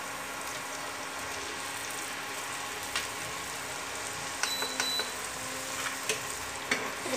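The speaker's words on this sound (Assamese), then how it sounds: "এতিয়া লাহেকৈ ভাজি ল'ম, ভালকৈ ভাজ খোৱাকৈ মচলা, পিঁয়াজ, নহৰু গোটেইখিনি ভাল ভাজ খাই ৰঙচুৱা হোৱালৈকে ভাজি ল'ম।" Masala, onion and garlic fry in a pan for a brinjal dish, a steady soft sizzle with occasional scrapes and taps of stirring near the end.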